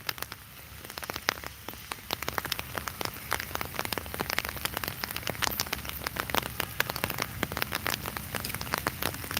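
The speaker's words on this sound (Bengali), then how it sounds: "যত সময় যাচ্ছে তত বৃষ্টি বাড়ছে" Rain patters steadily on a hard surface nearby in Sylhet during the dry winter season, dense irregular drops tapping throughout with no voices.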